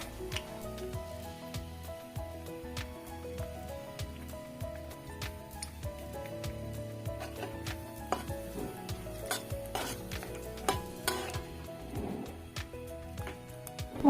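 Ginger, turmeric powder and coriander powder fry softly in a pan, giving a faint, steady sizzle broken by scattered spoon taps and clicks of utensils over a low background hum, with no voices.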